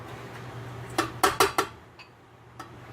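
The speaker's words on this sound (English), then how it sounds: "So guys, this will be 1 cup of flour that I add." A cup of flour is added to a bowl for cornbread: a quick run of four close clinks and taps of a cup against the bowl, followed by a couple of softer knocks.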